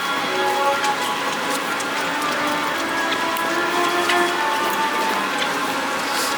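Steady rain falls in Shanghai with a constant hiss and patter, overlaid with faint sustained tones, continuous throughout with no talking.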